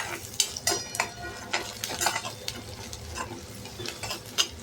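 A sliced green chili sizzles in a hot pan while a spoon scrapes and stirs, giving repeated short clinks and scrapes over a steady frying hiss, close and moderately loud for a Marathi-style masoor dal amti.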